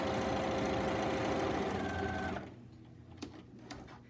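A sewing machine stitches thread in steady, loud, rapid mechanical bursts for about two and a half seconds, then stops, leaving a quiet room with a few faint clicks and handling sounds.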